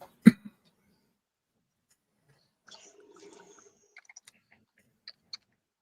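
A single sharp cough bursts out near the start of an otherwise quiet room, followed by faint scattered clicks and small handling noises.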